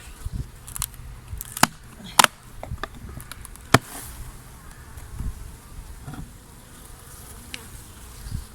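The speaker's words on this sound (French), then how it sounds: "je vais secouer un maximum de mes abeilles qu'il y a dedans" Honeybees buzz in a small nucleus hive in December, a low, continuous close hum broken by sharp knocks and handling clatter as the bees are shaken out, with no voices.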